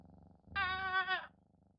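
A cat in the video game Moonlight Peak gives a short, bright purring trill lasting under a second, rising over a soft low background hum and standing alone without talk.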